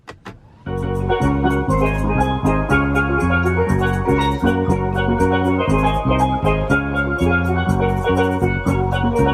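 A Tesla Model 3 plays a Caribbean-themed melody through its external speaker, bright steel-drum-like notes in a steady rhythmic pattern over a bass line, starting abruptly after a brief click and continuing loudly.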